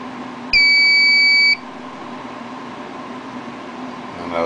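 An RCBS Charge Master 1500 powder dispenser gives a single loud, high electronic beep lasting about a second, close by, followed by the low hum of the room.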